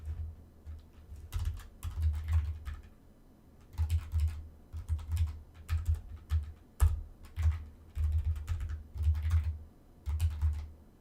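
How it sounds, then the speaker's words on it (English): Typing on a computer keyboard during a programming livestream, bursts of rapid close key clicks separated by brief pauses, fairly quiet with no talk. "Except once again, I'm typing,"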